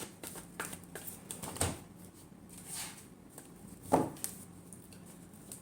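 Tarot cards are shuffled in a few quick, crisp riffles and taps, close and moderately loud, with scattered soft rustles between them and no speech.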